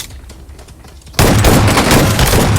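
Heavy gunfire in PUBG Mobile bursts in abruptly after a quieter stretch, then holds as a loud, sustained volley of rapid shots to the end.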